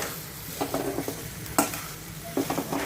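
Spices crackle and sizzle in hot oil for a potato-filling tempering, with short bursts of stirring scrapes in a pan, close and moderately loud, quieter sizzling between the strokes.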